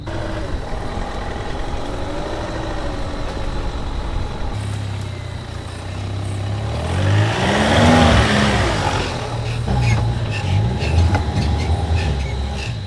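A 4WD off-road van with a stage 1 ECU reflash, running Maxxis Razor 265/70/16 tyres on 8-inch CSA rims, drives along a sandy subtropical track; engine and tyre rumble is continuous and swells midway, with no talking.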